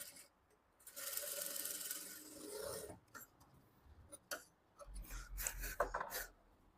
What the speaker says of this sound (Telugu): మళ్ళీ ఒక డబుల్ స్టిచ్ వేసుకోవాలి.